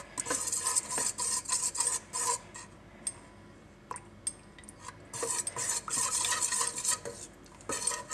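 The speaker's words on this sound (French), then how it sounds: "Il faut bien mélanger en cercle pour éviter que le chocolat reste collé au bol." Spoon scraping in circles around a bowl of hot chocolate and milk, a busy run of quick clinking scrapes that pause now and then, close and fairly soft.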